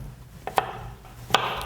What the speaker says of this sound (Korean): 그 다음에 애호박 이제 연필을 깎듯이 이렇게 돌려 깎는 거예요